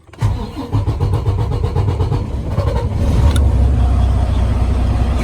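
A 2013 Freightliner Cascadia with a DD15 diesel engine cranks briefly, catches, and settles into a loud, steady, deep idle rumble close by.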